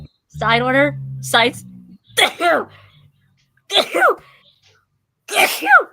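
A sneeze from seasonal allergies bursts out amid casual conversation during a drawing stream, followed by more talking; voices are heard before and after the short, sharp sneeze.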